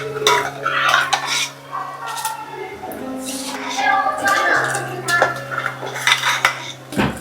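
A spoon stirs cooked green moong puran into thin, tangy katachi amti in a metal pot, giving loud, busy clattering and scraping against the pot over a low steady hum.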